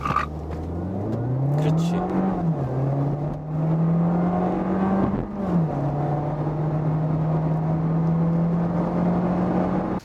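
A Volkswagen Jetta with a small 1.4-liter engine pulls away from a standing start with slight wheelspin, engine pitch rising and stepping through gear changes in a steady, close drone; a voice briefly speaks at the start.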